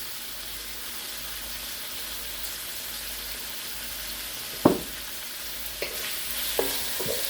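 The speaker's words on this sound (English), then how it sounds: "As long as you keep on stir frying it," Steady frying sizzle of sweet potato glass noodles for Korean japchae fills the clip, with a few brief clanks of a utensil stirring in the pan near the end.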